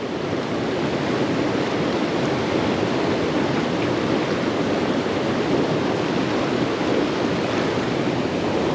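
A mountain stream with a strong current rushes through a valley, producing a steady, dense, loud roar of flowing water without pause, close by and unbroken by any voices.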